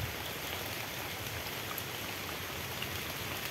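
Heavy rain falls steadily and evenly at a fishing spot, forming a dense, constant hiss of countless drops on surfaces and water with no pauses and no voices.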